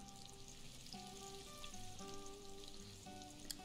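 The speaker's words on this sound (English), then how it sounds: "Now I need to grab some eggs out of the fridge. Looks like I can start cooking breakfast now." Eggs fry for breakfast in a pan in a video game, a steady close sizzle that runs the whole time beneath soft sustained musical tones.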